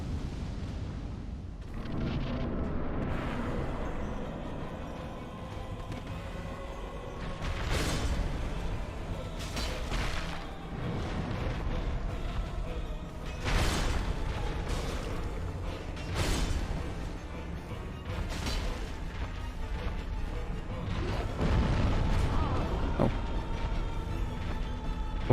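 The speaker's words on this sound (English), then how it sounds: "Forgot that that was the animation for the explosion attack." An explosion attack in Dark Souls Remastered, from the Demon Firesage fight, with repeated heavy booming blasts and crackling impacts over a constant rumbling roar, loud and dense, with no talking.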